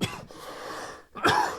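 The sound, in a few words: man coughing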